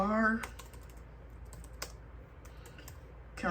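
Scattered key clicks from typing on a computer keyboard, soft and close, in short irregular bursts with gaps between, opening and ending with a brief louder sound.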